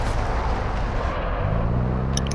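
Airstrike explosions in Call of Duty: Warzone 2.0 form a loud, sustained rumbling roar of blasts that rolls on continuously, with a low droning tone settling in near the end.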